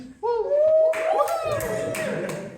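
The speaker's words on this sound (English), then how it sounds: "I didn't really hold the applause, but you were overzealous and I liked it." Audience applause at a live comedy show, a burst of claps that starts after a voice ends and carries on over the following seconds, with voices heard at the start.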